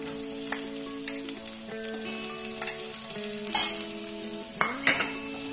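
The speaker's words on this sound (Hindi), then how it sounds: "उन्हें मिक्स कर लो दो मिनट ने तेल में फ्राई कर लो" Cluster beans with chillies frying in oil, heard as a close steady sizzle broken by several scraping stirs of a spoon against the pan, with no talk.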